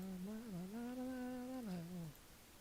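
A cat meows in one long drawn-out, rising-then-falling call lasting about two seconds, close and clear with a faint background after it ends.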